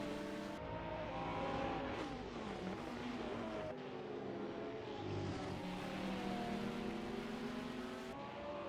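Holden Commodore race cars roar in a sim racing game at the Newcastle circuit, engines revving and shifting through rising and falling pitches in a sustained, loud drag down the straight, with no voices.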